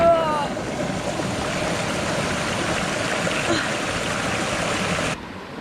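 Fresh cold water flows steadily in a close, broadband wash, with a brief higher trickle at the start, continuing evenly for about five seconds before cutting off.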